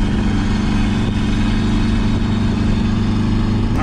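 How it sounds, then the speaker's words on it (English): A turbocharged Honda H22 engine in a CB9 Accord Wagon running close up, a loud, steady, throbbing low rumble with strong pulsing harmonics and no talk. "I really just love the sound of this turbo H22. It just sounds so vicious."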